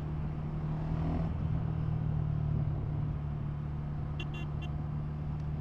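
A 2023 Ducati Scrambler motorcycle runs with a steady, loud engine and exhaust rumble, holding a constant drone for several seconds with a brief faint chirp near the end.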